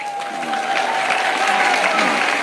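A crowd applauding in a hall during a talk about a regent election, with steady continuous clapping at moderate loudness and voices mixed underneath.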